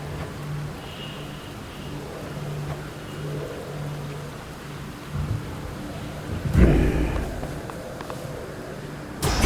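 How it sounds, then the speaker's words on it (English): Rain with a deep rumble of thunder in the Hades 2 video game, a steady wash of rainfall under a low hum, swelling into a loud thunder crack near the end. "The rains return."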